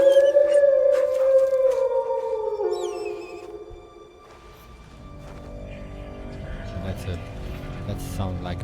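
A dog howls in the medieval open-world game Kingdom Come: Deliverance 2, a long, wavering cry near and fairly loud at the start, then fading as game ambience and distant noise take over.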